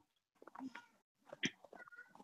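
A cat meows in two short bursts close to the microphone, separated by a pause, with a faint voice in between.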